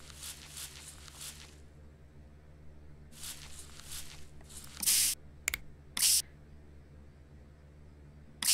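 Short bursts of spray hitting dinosaur fossil bones during cleaning, two loud separate hisses with a brief squirt between them, after softer scrubbing or rubbing sounds on the bones; no talking.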